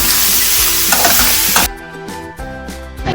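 Cluster beans with green chili paste fry in a pan, a loud dense sizzle with stirring that suddenly cuts down to quieter scraping and light clinks.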